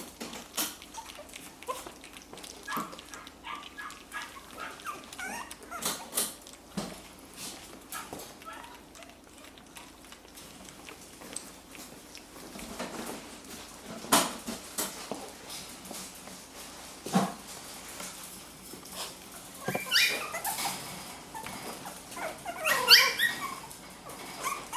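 Four-week-old puppies whimper and make small squeaky cries around a food dish, with scattered sniffing and shuffling noises. A quiet voice speaks now and then.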